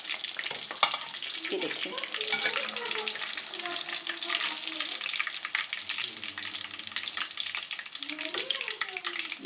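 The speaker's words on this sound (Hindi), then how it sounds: "आप देख सकते हैं कि कितनी ज़बरदस्त हमारी मछली जो है वो फ्राई हुई है" Fish fries in ghee until crisp, giving a busy, close hiss and crackle with stirring scrapes throughout while a voice speaks briefly over it.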